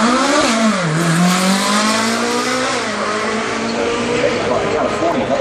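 A front-engine Ferrari California at Goodwood Festival of Speed 2014 sounds its exhaust: a loud, close engine note rises and falls through revs, with crowd murmur and voices underneath.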